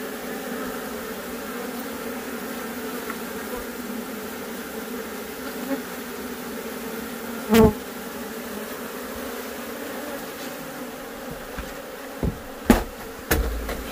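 Dense swarm of bees droning steadily around an apiary on a mesquite-surrounded property, a constant near hum with a few brief clunks and taps mixed in, no talking.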